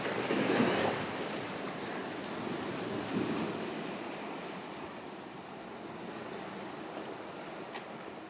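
Waves wash steadily onto a secluded beach at Sao Cristovao, Boaventura, Madeira, a continuous broad surf roar with a slightly stronger surge near the start and light wind mixed in.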